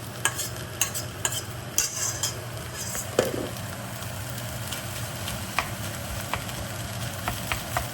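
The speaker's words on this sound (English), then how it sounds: "Break it just roughly, not too much, and then just stir in the crab" Peeled, cooked Dungeness crab meat is stirred into a pan, with a soft continuous sizzle underneath and repeated light clinks and scrapes of a utensil against the pan, close and moderately quiet.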